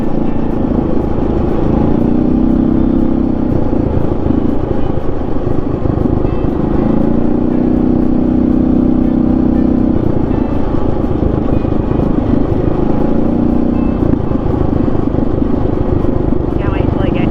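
Steady low engine drone and road rumble from inside a moving car, a first-person ride with bumpy surging tones, continuous and fairly loud for the whole stretch.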